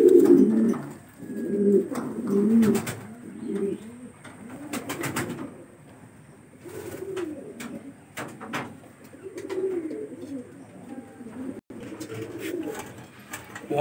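Domestic pigeons, including fillback breeds, coo repeatedly in a loft in Bangladesh, their soft throaty calls rising and falling close by with occasional bursts of wing flutter and brief chirps.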